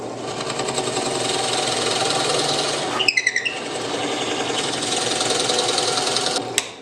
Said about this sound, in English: let's drill our holes